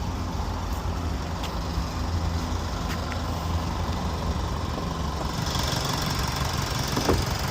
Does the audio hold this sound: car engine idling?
yes